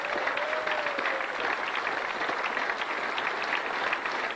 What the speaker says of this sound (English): a generous round of applause too there for Australia